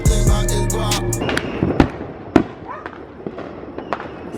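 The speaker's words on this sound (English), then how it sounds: "See the fireworks from the backyard." Fireworks bursting over a backyard on New Year's Eve near midnight, with a loud close crackle at the start and then sharp separate bangs, some near and some farther off, under faint voices.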